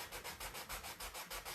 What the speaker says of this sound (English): I'm going to get my little sanding block and see if I can't sand it off